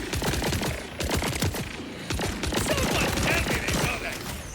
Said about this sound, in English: As I shoot the wildlife